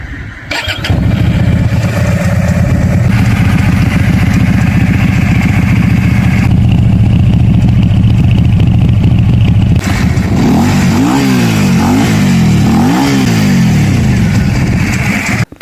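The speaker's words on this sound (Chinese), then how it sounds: "先启动一下，听一下发动机声音。" A Benda Chinchilla 300 motorcycle engine starts with a quick crank, settles into a loud steady idle close by, then gets several sharp revving blips toward the end, with no talk.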